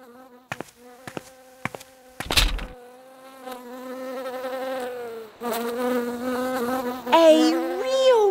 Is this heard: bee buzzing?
yes